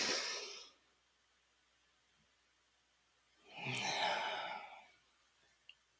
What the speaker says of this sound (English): Take a deep breath in, close your eyes.